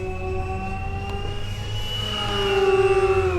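FMS Maule 1500mm RC bush plane flying past with pulsed throttle, its engine whine holding steady then rising in pitch and loudness near the end, continuous and fairly close.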